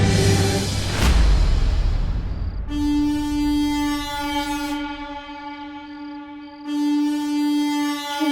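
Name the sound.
horn pipe sound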